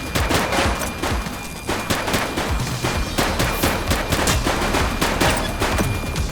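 Sustained automatic gunfire during a police shootout in the video game The Precinct, with dense, loud bursts of machine-gun shots rattling continuously and no talk over them.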